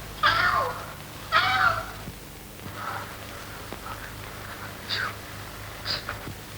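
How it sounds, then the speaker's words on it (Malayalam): Several cat meows from a cat following a person around in an old Malayalam film scene, the first two louder and longer, later ones shorter and quieter, over faint background hum. "ഇതെന്താ ഈ പൂച്ച ഇങ്ങനെ നിങ്ങളുടെ പുറകെ?"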